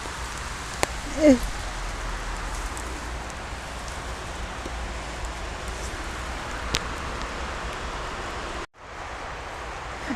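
Steady heavy rain hisses throughout, with a brief voice near the start and a couple of faint knocks.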